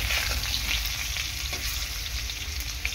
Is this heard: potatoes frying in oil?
yes